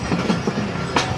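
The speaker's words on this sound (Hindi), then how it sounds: "अल्लामा इकबाल एक्सप्रेस जो है वो चीचा वतनी रेलवे स्टेशन से डिपार्ट कर रही है" Allama Iqbal Express train pulling out of Chichawatni railway station, a steady loud rumble of wheels and carriages with a brief screech near the end.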